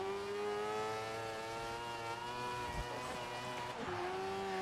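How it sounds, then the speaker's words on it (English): A race car engine in the racing video game GRID drones loudly and steadily at high revs, close up. It holds a constant pitch with slight shifts, and faint tire noise runs underneath. "They've actually done good engine sounds."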